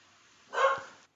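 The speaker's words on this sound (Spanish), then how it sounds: "yo mando a callar a mis perritas" A small dog gives a single brief, sharp yip-like bark indoors, close and alone after a moment of near silence.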